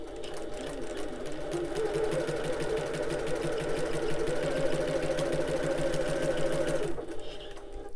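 A sewing machine stitches the edges of a fabric wallet in one continuous, steady run of rapid needle strokes, loud and close, before stopping abruptly near the end.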